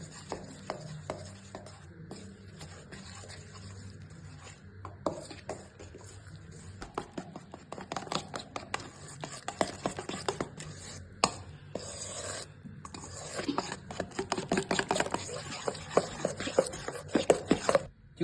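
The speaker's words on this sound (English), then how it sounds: "Now we will mix everything." Pancake batter being whisked in a bowl, a busy stream of quick scraping and tapping strokes that grows louder and denser toward the end, with no voices.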